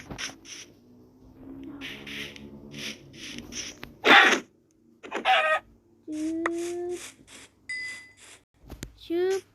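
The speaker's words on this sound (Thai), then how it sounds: "มีไก่" Chickens clucking and squawking in short bursts, some notes rising into rooster-like calls, loud and close, mixed with brief voices and clattering sounds from a game or playful recording.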